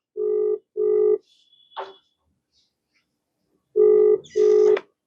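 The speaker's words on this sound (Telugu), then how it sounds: "రింగ్ అవుతా ఉంది" An outgoing phone call ringing back, with two pairs of short buzzy ring tones separated by a pause and a brief electronic blip between them, loud and close.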